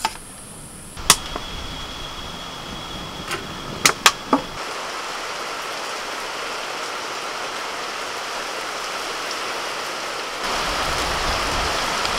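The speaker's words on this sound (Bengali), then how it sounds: "বেশ বৃষ্টিটা হলো, ভালো হলো, ঠান্ডা করে দিল।" Steady rain hisses down throughout, with a few sharp clicks and knocks near the start and the downpour growing slightly heavier toward the end.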